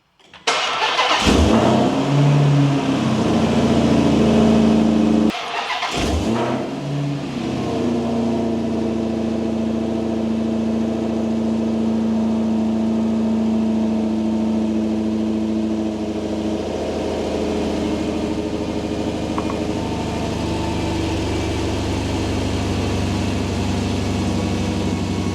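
A built 426 V8 engine fires up with a loud start, blips briefly, then restarts and settles into a steady, loud rumbling idle that runs alone for the rest of the clip.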